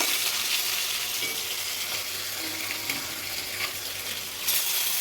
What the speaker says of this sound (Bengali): আমি মাছটা ভেজে দিই তাড়াতাড়ি করে